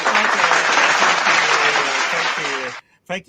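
Clapping at the close of a live talk show, a dense burst of audience applause for almost three seconds that cuts off abruptly, followed by a short spoken word.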